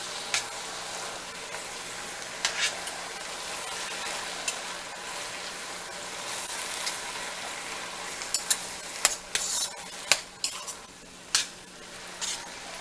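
Garlic sizzles steadily in a hot pan while a utensil stirs it, with sharp scraping clinks growing louder and more frequent toward the end.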